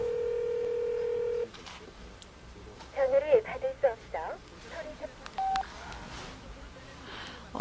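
A steady dial tone cuts off, then a short string of keypad beeps sounds amid quiet speech and background noise.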